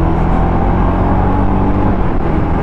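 A Jawa 42 Bobber motorcycle engine pulls hard under acceleration, a steady loud low rumble that is close and continuous throughout with no talk.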